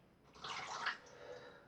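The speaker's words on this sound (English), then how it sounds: "I'll put some water on my fingers." Brief splash of water onto fingers during a wet shave with a Gillette Fatboy razor and Tabac soap, a soft broadband wash rising for about half a second and fading, close and fairly quiet.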